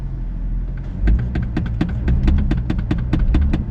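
A BMW X1 engine in sport mode idles with a low rumble while the throttle is feathered, producing a series of short, regular revving pulses close by with no talking.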